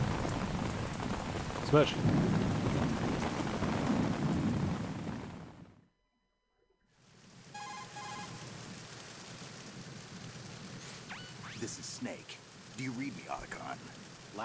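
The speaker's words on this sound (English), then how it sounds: "You hear that rain?" Steady rain from the video game Metal Gear Solid 2 hisses loudly for several seconds, cuts to near silence, then returns more softly under scattered speech and other game sounds.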